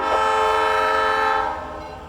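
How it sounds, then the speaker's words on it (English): Freight train with three new locomotives approaches a road crossing in snow, horn blaring loud and sustained with rich harmonic tones, then easing slightly as the engines draw near. "And here comes the train."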